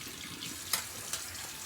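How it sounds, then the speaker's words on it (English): A paintbrush is rinsed under a running tap, with a steady close hiss of water splashing into a sink and a couple of brief knocks from the brush. "Wash out this brush."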